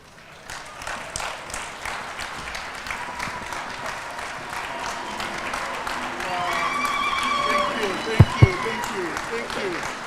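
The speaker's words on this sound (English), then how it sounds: "Let's give a warm clap for that." Applause rises from guests at a State House dinner, a steady wash of clapping that swells toward the end, capped by a couple of sharp knocks near the close.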